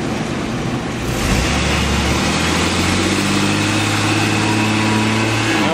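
A 2001 Chevrolet S-10 engine is held under brake torque, rising from idle into a steady, loud drone that holds evenly for several seconds.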